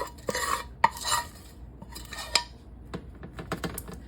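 Rice Krispies cereal poured into a pan, then scraped and stirred with a utensil, giving light rattling, clinks and irregular scrapes at close range, with no talking.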